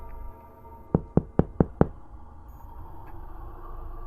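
Knocking at a back door: five quick, sharp raps in an even rhythm, fairly close and distinct against a quiet room background.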